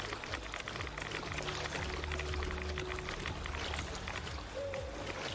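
Water pours and splashes steadily while dirty water is collected in Fallout 76, a continuous close flowing rush with faint game tones running underneath throughout.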